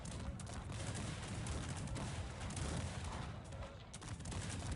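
Musket gunfire in a Cossacks 3 battle: dense, continuous crackling volleys with no clear gaps, steady and fairly loud throughout.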